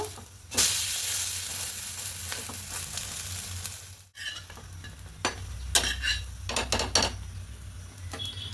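Loud continuous sizzling of bread slices frying in oil in a pan, with a brief pause, then clinks and scrapes as pieces are turned over.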